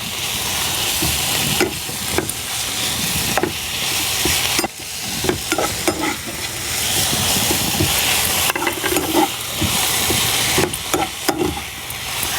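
Ginger garlic paste sautéing in a pan, a continuous close sizzle and hiss with repeated stirring scrapes and clicks throughout, no voices.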